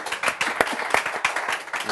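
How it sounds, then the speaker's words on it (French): An audience on a French school broadcast claps, a short burst of sharp, uneven hand claps close by, lasting under two seconds with no talk on top. "On peut applaudir Mister D."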